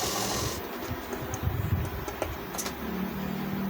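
A sewing machine runs steadily as it stitches trouser fabric for an elastic-waist pant, a continuous low mechanical whir with faint clicks throughout.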